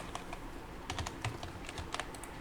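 Typing on a computer keyboard, a quiet run of scattered key clicks in uneven bursts, close by with no talk over it.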